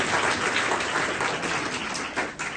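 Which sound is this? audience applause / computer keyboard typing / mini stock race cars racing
audience applause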